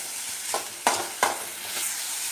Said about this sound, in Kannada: ಟೊಮೆಟೊ ಬಡ್ಗ, ಈ ಫ್ರೈ ಮಾಡ್ಬೇಕು.